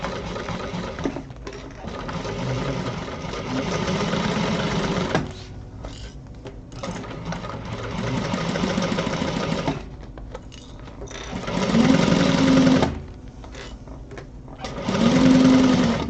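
Sewing machine stitching fabric lining runs in several sustained bursts of fast mechanical whirring and needle clatter, separated by short pauses, with some spells louder and deeper than others.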